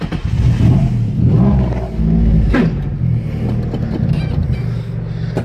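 A turbocharged Nissan VQ35 engine runs close and loud, with a steady rumble, a couple of rises in revs and a sharp transient midway, and no talking.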